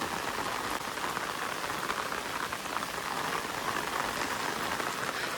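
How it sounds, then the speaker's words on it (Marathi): Heavy rain falls steadily around a village fishing spot, a dense, even patter on surfaces that stays constant and close throughout, with no voices. "पाऊस जाम लागलाय."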